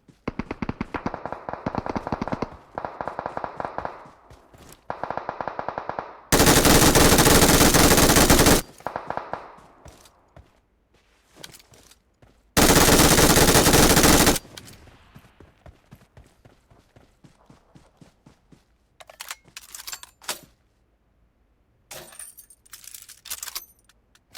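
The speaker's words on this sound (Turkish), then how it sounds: "adamlar tepeye çıkmış milleti vuruyor ya" PUBG Mobile gunfire: rapid machine-gun bursts, including two long dense sustained volleys, alternating with scattered single shots and clicking pickups, loud and close, with no talking.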